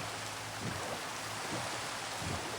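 Steady rainfall in Minecraft hisses continuously, soft and even, with faint patters and no voices.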